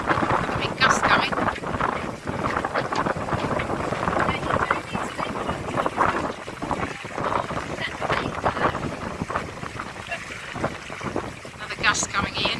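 A gust of wind rushes over a sailing boat, the Cornelia Anna, on Walton water, giving a continuous loud roaring buffet of wind noise against the microphone that persists throughout.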